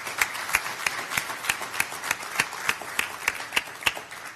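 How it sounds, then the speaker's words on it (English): Applause from the audience at a Shelby Township business awards event, heard as a steady, rhythmic series of distinct claps over a faint background of crowd noise. "So let's give all those people from Shelby Township a round of applause."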